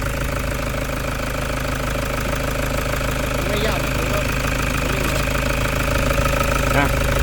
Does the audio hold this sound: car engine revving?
yes